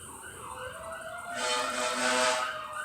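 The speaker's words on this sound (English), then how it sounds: "Oh, there's sirens, Lo." Emergency vehicle sirens wail in the distance, the tone sweeping up and down and then swelling louder and steadier as they draw nearer.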